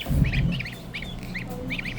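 Geese honk repeatedly in short, nasal bursts of several calls each, fairly near, over a low background rumble.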